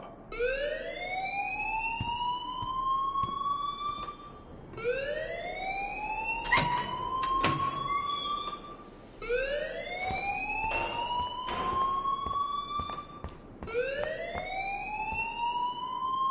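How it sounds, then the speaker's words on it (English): A rising, wailing alarm in the video game Life is Strange cycles four times with repeated upward sweeps, loud and continuous, with a few sharp clicks over it and no talking. "please turn off that alarm since that's your job"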